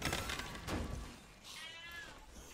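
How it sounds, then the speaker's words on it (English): A pet cat meows a few times in the background of a quiet room, soft high-pitched cries rising and falling over a faint hum. "My cat Amos has come down to join. I can hear him"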